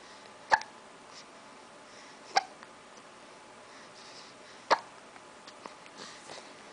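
Three sharp, isolated hiccups sound close by at about two-second intervals over a quiet background, with a few faint smaller clicks afterward.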